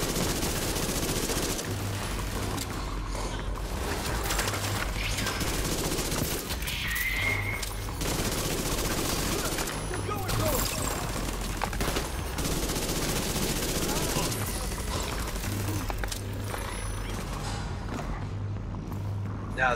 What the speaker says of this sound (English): Damn, look at all those bullets fly!